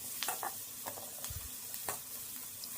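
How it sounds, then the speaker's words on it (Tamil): Onion and curry leaves being sautéed in a pan while cooking soya chunks, giving a faint, steady sizzle with a few light stirring scrapes and one low thump, no talking. "சேர்த்துட்டு கருவேப்பிலையும் வதக்கி விட்டுக்கலாம்."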